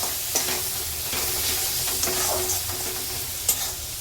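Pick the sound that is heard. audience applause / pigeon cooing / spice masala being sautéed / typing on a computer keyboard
spice masala being sautéed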